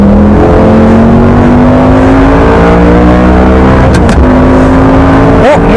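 A Honda NSX-R race car engine, overheating late in a track battle, revs hard and loud up close, its droning pitch climbing steadily, then dipping with a gear change before rising again.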